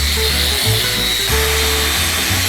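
A power sander grinds down the wood of a pallet bench outdoors, a loud, steady whirring drone close by, with slight shifts in pitch as the pressure changes and no talking.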